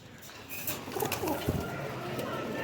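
Large king-size pigeons with purple feet, kept as a breeding pair, give soft cooing that stays fairly faint against a busy background, with a voice present in the mix.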